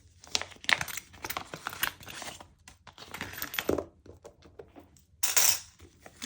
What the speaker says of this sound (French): je vais vider cette enveloppe